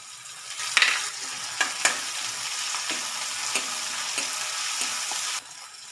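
Onion and tomato fry in a pan for a fenugreek-leaf curry, giving a soft steady sizzle with a few sharp crackles and clinks, fairly quiet throughout, with no talking.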